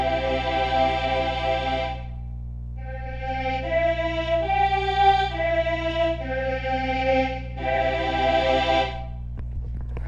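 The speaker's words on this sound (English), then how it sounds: "the first chord, the Do Mi Sol chord, will sound like this." Sustained chords ring out on a keyboard-like instrument, starting with the Do Mi Sol major chord. Several held chords follow one after another, each separated by brief gaps.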